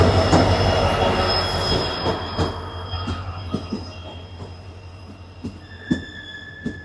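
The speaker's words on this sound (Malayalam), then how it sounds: "ട്രെയിൻ വരുന്നുണ്ട് എന്നാണ് തോന്നുന്നത് ആ വരുന്നുണ്ട്" The Siliguri Express pulls into an Indian railway station with a steady rumble, loud metallic wheel squeals and rhythmic clacks over rail joints, heard close by with no talking.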